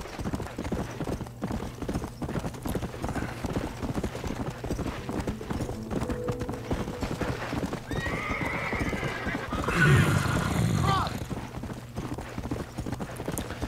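Rhythmic hoofbeats of a horse galloping steadily throughout in Red Dead Redemption: Undead Nightmare, with a loud whinny rising near the end; faint voices murmur underneath.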